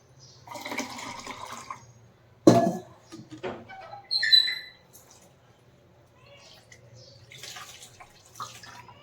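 Cool water poured over freshly churned butter while washing it for ghee, several splashy pours and swishes spread across the clip with quiet gaps between them, close by and moderate in volume.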